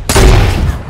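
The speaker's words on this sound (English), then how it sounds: "Shoot a shitload of rockets at him." Rockets fired at a building in Fortnite, heard as a sudden, very loud blast that rolls into a rumbling burst of explosions and fades over under a second.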